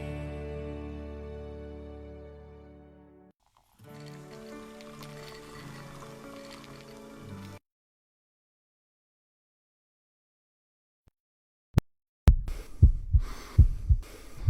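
A heartbeat sound effect comes in after a stretch of music and silence: a few deep, rhythmic thumps that pulse loudly near the end.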